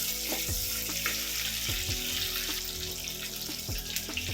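Onions sautéing in a pan over a medium flame for a Kerala-style chilli fish curry, a steady close sizzle and hiss broken by several low thumps and knocks of a spoon or pan, with no talking.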